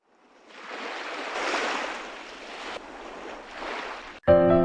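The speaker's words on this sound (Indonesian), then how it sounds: "Banyak orang yang kesulitan tidur dan ingin menenangkan diri menggunakan suara ombak sebagai jalan keluarnya." Ocean waves wash in a soft, steady hiss that swells and eases for several seconds, then a sudden bright tonal sound cuts in at the end.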